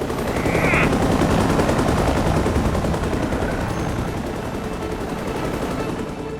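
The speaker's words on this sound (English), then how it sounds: "That last salvo did some damage." Rapid weapon salvo from a spaceship in a sci-fi space combat video game, a dense, loud continuous barrage of firing bursts with a brief high whine near the start, holding steady throughout with no voices.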